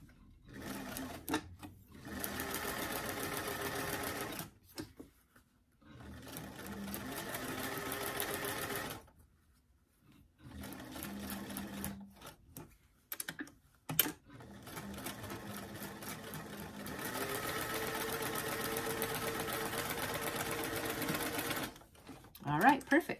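Sewing machine stitching a seam on a doll garment, starting at the cuff edge, running in several long steady bursts separated by short pauses, close and fairly loud, with a person speaking between runs.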